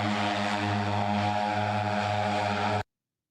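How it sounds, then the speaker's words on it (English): A Jetson One personal electric helicopter, a one-seat drone-like aircraft, hovers nearby with a steady, droning whine of rotors and multiple tonal hums, loud and constant until it cuts off abruptly. "This is called the Jetson One, and it's a personal electronic helicopter that's like a drone you can get into and fly yourself around."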